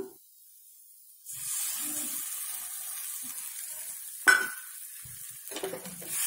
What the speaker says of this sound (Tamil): இது தேவையான உப்பு போட்டு இப்போ நான் வதக்கிட்டு இருக்கேன்